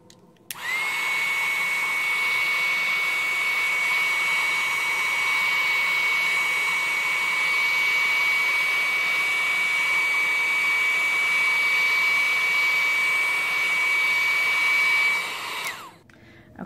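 A handheld heat tool used for heat-setting stamped ink on paper blows with a loud, steady whooshing hiss and a thin high whine, running continuously for about fifteen seconds before clicking off.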